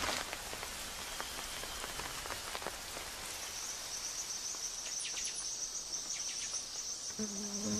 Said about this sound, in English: A light shower forces the men to rest for a day.